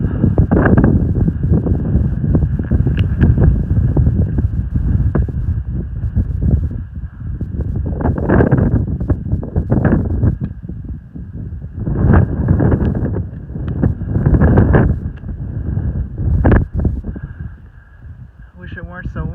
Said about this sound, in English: Wish it weren't so windy up here.